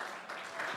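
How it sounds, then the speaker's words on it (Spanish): Architects in an audience at an urban development panel in Monterrey clap together in a steady, dense wash of applause, moderately loud and unbroken through a brief moment. "están aplaudiendo los arquitectos"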